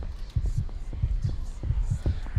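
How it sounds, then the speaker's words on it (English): Heartbeat effect in the horror video game The Other Side, a steady series of low, thudding double beats pulsing over a dark ambient hum with no talk. "I hear a heartbeat. Why am I hearing a heartbeat?"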